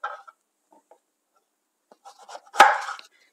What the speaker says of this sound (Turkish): Şimdi patlıcanlarımı 3'e bölüyorum.